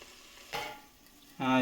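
Onions frying in a pan for a Telugu-style mutton curry gravy, with bursts of sizzling and stirring that swell in two loud surges, the second brightest, between quieter stretches.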